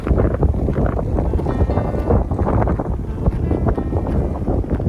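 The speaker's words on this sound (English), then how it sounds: "It's a bit windy." Strong gusting wind at Mount Bruce, Western Australia, buffets the microphone in a continuous loud, low rumble with no letup.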